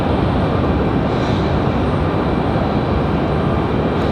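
An airliner departs Raleigh-Durham International Airport, its jet engines producing a loud, steady broadband roar that holds at constant strength throughout, with no voices.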